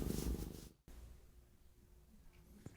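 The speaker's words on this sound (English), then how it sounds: "I pet her, she purrs." A pet cat purring close up while being stroked, a soft steady low rumble that breaks briefly, then continues quietly alone.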